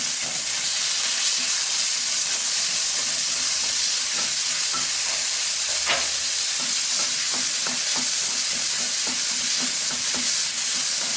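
Steady sizzling of onions and tomatoes sautéing in oil in a pan, with occasional soft stirring clicks and scrapes, close and continuous without any voices.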